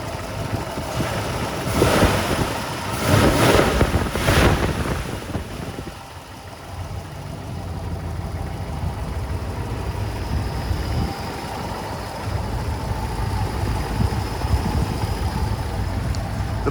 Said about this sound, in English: Here's our engine bay. Just listen to this motor.